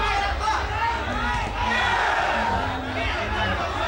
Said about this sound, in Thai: แฟนมวยที่ดอนเจดีก็เชียร์ท่ามกลางรอยยิ้มเลยครับ